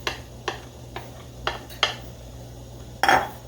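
A metal spoon scrapes and taps against a dish, working out leftover stuck grains with a handful of separate clinks spread out over a few seconds, the last and loudest a brief rattling scrape; no one speaks.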